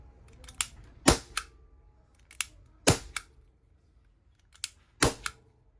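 An Ekol P92 non-blowback air pistol fires a series of sharp, close cracks, single and paired shots spaced irregularly with quiet gaps between.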